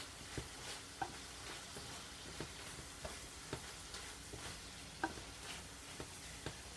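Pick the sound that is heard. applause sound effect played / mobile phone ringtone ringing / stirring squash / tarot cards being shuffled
stirring squash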